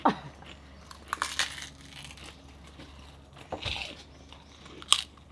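Close, irregular crunching and biting as a dog chews crisp pork rinds, with a few sharper crackles amid quiet background.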